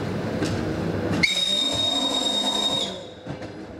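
Electric commuter train at Nizhyn station in Ukraine, with a steady rumbling hum, a sharp squeal at the start and a sustained high whine through the middle, fading out near the end.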